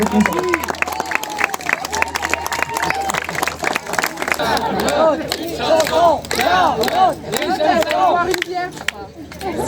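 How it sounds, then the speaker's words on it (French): An audience at a French savory and sweet cooking contest judged by three chefs claps and cheers for Charlotte, with loud overlapping applause and shouts under excited voices throughout. "je vais l'applaudir"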